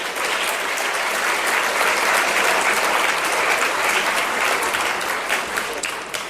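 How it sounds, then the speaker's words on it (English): Sustained, dense applause from a lecture audience thanking the volunteers who organized an anti-poverty event, loud and steady throughout and easing slightly at the end. "so please give them a round of applause"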